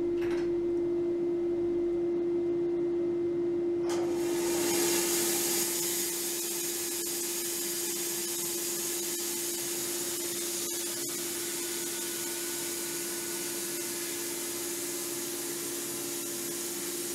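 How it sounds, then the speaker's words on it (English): A Woodmizer LT15 bandsaw mill cutting boards from a squared log in Orust, Sweden: a steady hum gives way to a loud, continuous sawing roar as the blade enters the wood, heard up close without talk. "now he will start milling the boards"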